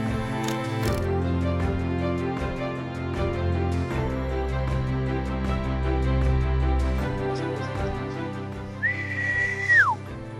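A person's single rising-then-falling whistle to attract two chiriguare hawks in the Venezuelan Llanos sounds near the end, faint over a steady droning tonal background.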